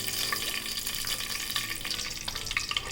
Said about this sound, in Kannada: ಈಗ ಅದೆಲ್ಲ ಹಾಕ್ಕೊಂಡು ಒಂದು ಸಲ ಫ್ರೈ ಮಾಡ್ಕೊಳ್ಳೋಣ.